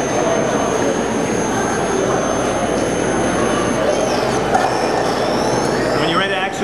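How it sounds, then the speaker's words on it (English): A Ghostbusters proton pack prop idling, a steady, loud electronic hum with a high whine above it, continuous throughout, with brief higher tones near the end. "once she's fired up, she'll hum to let you know she's idling and ready"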